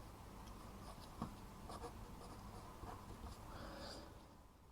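A pen scratches quietly on paper or a board as a maths function is written out during a partial-derivatives lecture, faint intermittent strokes over a low room hum.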